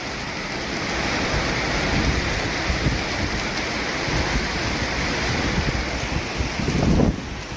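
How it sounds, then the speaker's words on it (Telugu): A thunderstorm with steady heavy rain hissing throughout and wind, a low rumble of thunder rising near the end, with no voices present. "వాన, ఉరుములు, మెరుపులు పెరుగుతూనే ఉన్నాయి."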